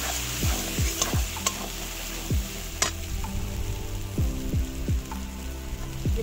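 Spices with turmeric and Kashmiri chili powder fry in hot oil while a spoon scrapes the pan in repeated strokes, sizzling steadily underneath, close and fairly loud.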